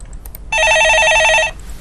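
A telephone rings once in a steady electronic trill lasting about a second, loud and close, before a call-in to a Korean stock market advice program is picked up, with quiet room noise around it.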